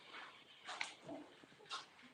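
A dog barks in a few short bursts and whimpers indoors, fairly faint, with quiet pauses between the yips.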